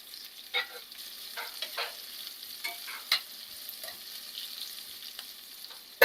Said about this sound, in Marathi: हे कांदा जरा भाजून घेऊया गोल्डन ब्राऊन करून घेऊया त्याच्यामध्ये आता मी लाल मिरची पण टाकते आहे